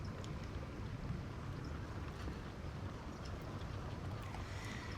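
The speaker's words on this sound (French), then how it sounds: "Donc le moteur est en route." Steady motor drone of a chairlift-like cable car in the adventure game L'Amerzone, a continuous low rumble with a faint hiss running evenly throughout.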